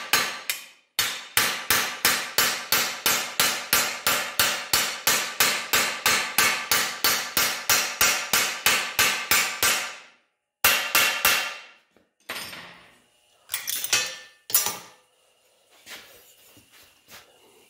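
Rapid, evenly spaced hammer blows ring out on the sheet-metal edge of a rusty trunk floor patch for a 1960s GM car, shaped over an upside-down T-dolly; about thirty close, loud strikes, then a pause and a few scattered taps and scrapes.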